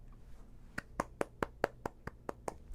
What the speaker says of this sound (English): Round of applause on that one, boys.